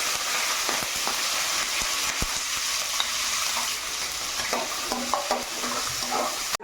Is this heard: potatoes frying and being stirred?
yes